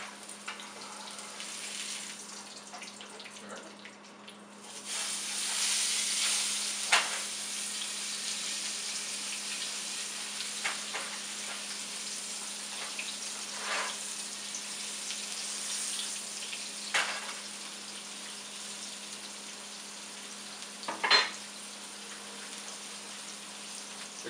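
Blackened tuna searing in a pan after being flipped, a soft steady sizzle with occasional sharper pops and crackles rising above it, moderately quiet and continuous for over twenty seconds.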